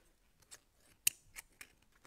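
Scissors snip through fabric while a sewing machine cover is cut, giving several short crisp cuts with one sharp, loud snip near the middle and lighter snips around it, with no talking.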